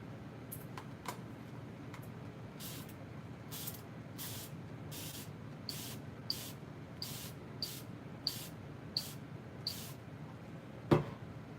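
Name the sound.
spraying water on a watercolor palette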